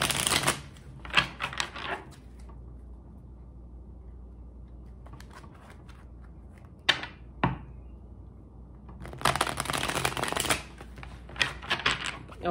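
Tarot cards being shuffled in several crisp, riffling bursts, close and fairly loud, separated by quieter pauses with a few soft taps.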